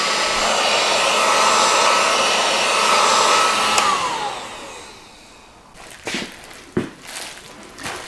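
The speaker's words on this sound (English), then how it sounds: "A little bit of a heat gun here." A heat gun used while installing LED headlights on a Model A blows a loud, steady broadband rush for about four seconds, then winds down, followed by a few sharp handling knocks and clatters.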